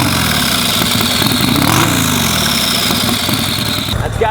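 A turbocharged Harley-Davidson motorcycle engine runs close and loud, its dense, steady rumble holding throughout with little change in level.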